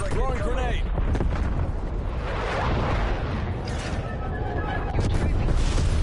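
A napalm strike explodes during a Call of Duty Cold War hardpoint match, a dense roar of blast and fire running continuously under game voice callouts and scattered effects.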